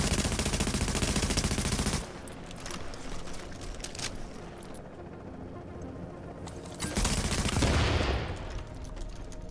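Automatic gunfire from the video game Tom Clancy's The Division: sustained, loud rapid-fire bursts that fill the whole stretch, rising and dipping in intensity with no pauses and no talk.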